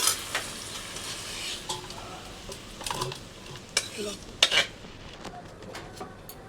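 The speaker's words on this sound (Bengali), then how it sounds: "এই যে তেল ছিল ওই তেলে আর তেল দিলাম না কারণ এমনিতেই ঝিঙে এটা তেল ওঠে" Sliced ridge gourd stirred and fried in its own oil in a pan, with a low steady sizzle under repeated scraping and clinking strokes of a spatula against the metal, a few sharper knocks near the end.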